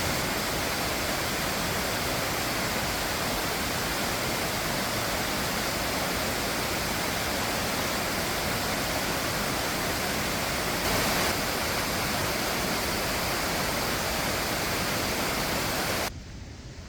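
A waterfall in Chiapas, Mexico roars close by in a dense, steady wash of rushing water that stays loud and unbroken until it drops off at the very end.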